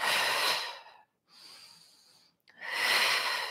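Exaggerated, audible breathing during a Pilates exercise: a long forceful breath, a pause, a softer breath, another pause, then a strong breath again, close and alone.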